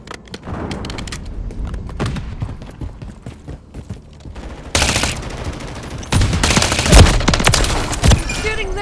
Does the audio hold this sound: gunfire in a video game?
yes